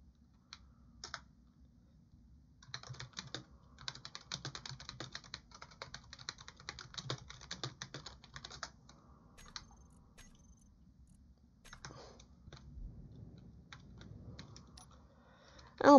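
Rapid typing on a computer keyboard, bursts of close, crisp key clicks with short pauses between runs, alone with no voices.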